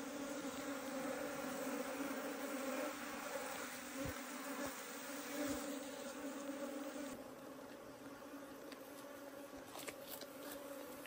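Honeybees swarming and droning as they are cleared out of a wall, a dense continuous buzz with a steady tone, close and even throughout, with faint knocks and scrapes underneath.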